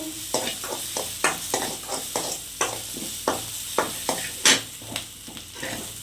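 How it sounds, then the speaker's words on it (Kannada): Onions fry in a pan for ladyfinger palya while a spatula stirs them in regular scraping strokes over a steady, close sizzle, with no voices. "ಈರುಳ್ಳಿನ ಕಲರ್ ಚೇಂಜ್ ಆಗೋವರೆಗೂ ಹುರ್ಕೊಳ್ಳಿ"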